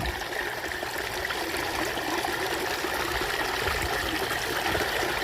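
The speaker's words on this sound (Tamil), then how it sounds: "தண்ணி வந்துட்டு இருக்குங்க, உரம் கரைச்சிட்டு இருக்கிறேங்க." Water running steadily into an onion field while fertilizer is dissolved in it, a continuous close trickling and gushing flow with no pauses.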